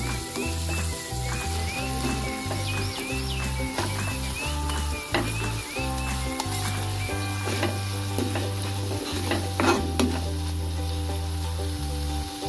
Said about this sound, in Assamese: এতিয়া কাটি থোৱা বিলাহীখিনি ইয়াতে ভাজি ল'ম